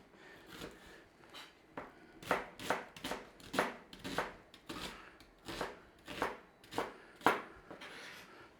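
A knife cuts an onion into cubes on a cutting board, with about a dozen distinct, crisp chops in an unhurried, steady rhythm, close and fairly quiet with brief pauses between strokes.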